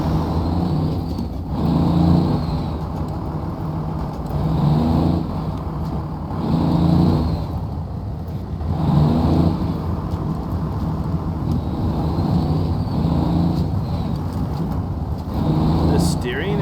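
Trail Crawler UTE diesel truck in SnowRunner, driving in two-wheel drive: a steady low engine drone that rises and falls in gentle swells over a long stretch, with someone talking over it throughout.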